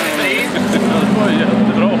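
Daniel Lister's Camaro race car passes in a heat race of the 2011 Swedish ice racing championship at Morjärv, its engine a steady loud roar throughout, with a commentator talking over it.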